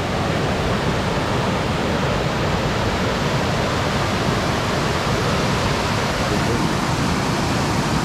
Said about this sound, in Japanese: もう全部が滝みたいやからよくわからない。